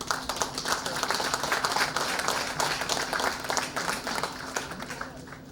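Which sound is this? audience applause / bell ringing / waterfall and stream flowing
audience applause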